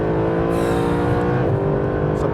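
Mercedes SLS AMG Black Series engine held on throttle through a slide, a loud, steady, close-up roar with a rich droning tone and slight shifts in pitch.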